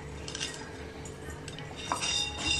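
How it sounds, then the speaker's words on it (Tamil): Coriander seeds and pepper dry-roast in a pan for Thiruchendur-style dry ginger coffee, making scattered light clinks and scraping rattles of stirring against the metal. The sound stays close and fairly quiet, with no talking. "அதை சேர்த்து சட்டியில் போட்டு நல்லா வறுத்துக்கோங்க."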